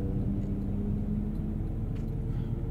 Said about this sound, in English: God, those cars are super loud.